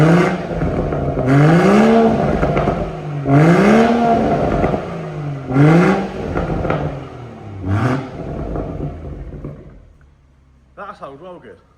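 A straight-piped BMW M140i on a Scorpion exhaust is blipped in four or five quick, loud revs, each ending in a crackling drop. The revs then die to a quiet idle, followed by a short final burst.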